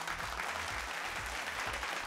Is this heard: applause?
yes